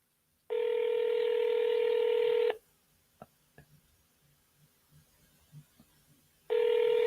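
A phone line gives a steady, loud tone for about two seconds. Quiet clicks and handset noises follow, then the tone starts again near the end, with no speech.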